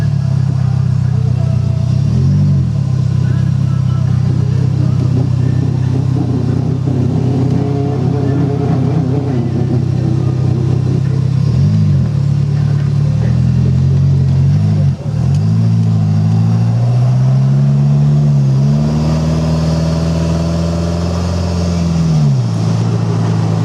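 A 2013 Thoroughbred Stallion motorcycle with a small 4-cylinder engine drives along, its steady, loud engine drone rising and falling through repeated revs and gear changes, with wind noise over the top.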